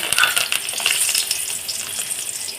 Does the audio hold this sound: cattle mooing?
no